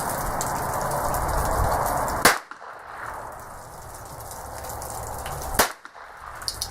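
Two sharp single shots from a North American Arms Mini Mag .22 revolver crack out a few seconds apart, loud and close, over a steady outdoor hiss.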